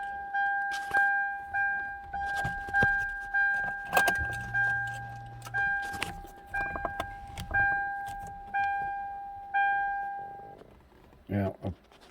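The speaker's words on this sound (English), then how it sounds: "got to put the key in the ignition because it's got a steering lock" Keys jangle into the ignition of a 2008 Hyundai Elantra with a steering lock and an intermittent crank-no-start fault. A steady run of repeating electronic beeps plays throughout, and a brief metallic rattle comes near the end.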